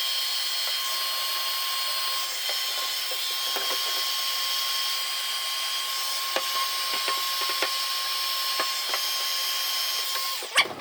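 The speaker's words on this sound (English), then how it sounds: "We'll heat it up and shrink that heat shrink." A heat gun shrinking heat shrink tubing over a crimped wire, a steady high-pitched blowing whine that runs throughout with faint clicks and handling noises underneath.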